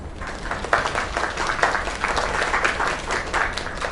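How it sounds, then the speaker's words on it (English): Steady applause from a crowd in the video game Lake, many hands clapping continuously without pause. "Another round of applause."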